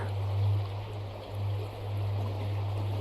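Steady water running and dripping close by, a continuous wet patter with a low hum underneath, no voices.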